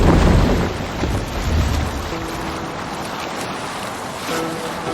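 Longship sailing the open sea in Assassin's Creed Valhalla, with a steady wash of waves and rushing wind, surging louder at the start and easing into a constant roar.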